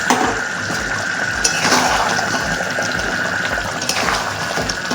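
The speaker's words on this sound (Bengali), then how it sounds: "এইবার আমরা এর মধ্যে জল দিয়ে দেবো চিকেনটা সিদ্ধ হওয়ার জন্য।" Water pours in a continuous gush into a pan of chicken butter masala, a steady rushing flow that holds even for several seconds with no talking.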